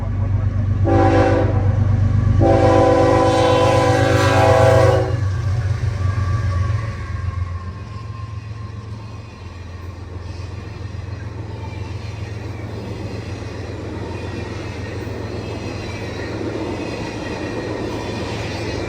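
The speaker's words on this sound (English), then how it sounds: "the business executive train, whatever the fuck you want to call it, blasts west out of Selkirk, heading back home for BNSF rails" A BNSF business executive train blasts west out of Selkirk on CSX rails, its loud horn sounding in two long harmonic blasts over a heavy rumble, then the passing cars roll by with a steady, fading roar.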